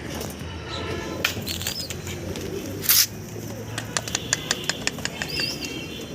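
Rajshahi Giribaz pigeons flap their wings in a sharp burst and a string of quick claps, over soft cooing and faint chirps in a quiet background.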